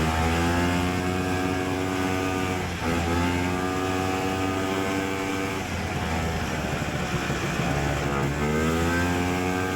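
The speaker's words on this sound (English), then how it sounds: "Really love the sound of this little one-lunger." A vintage single-cylinder one-lunger snowmobile engine races at high revs, a loud continuous buzzing drone that rises and falls in pitch as it changes speed, close and steady throughout.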